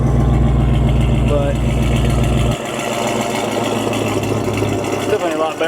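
A 1979 Jeep Cherokee Chief engine idles steadily through a newly installed exhaust, a low even rumble that shifts in tone partway through while people talk over it.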